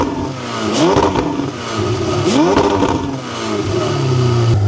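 A Ferrari Pista engine revs hard several times in rising and falling sweeps, cut by a slight soft limiter, loud and close with no talking.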